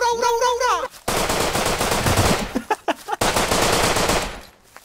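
Automatic gunfire in the survival video game Rust rattles in loud, rapid bursts separated by brief gaps, close and dense, after a short shout at the start.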